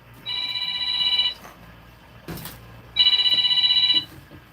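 A phone rings in two loud, close bursts of about a second each, separated by a quiet gap that holds a brief clatter, with no talk.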